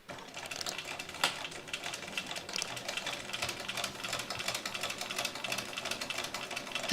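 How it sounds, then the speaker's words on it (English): A sewing machine stitches a fabric strap at a steady, rapid rattle, running continuously close up with no talking. "you're going to sew it again with 1/4 inch seam allowance down both of the long edges"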